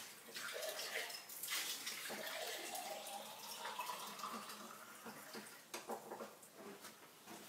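Fresh tap water runs steadily into a pint glass taken from a pub, a continuous close splashing flow that carries on for several seconds.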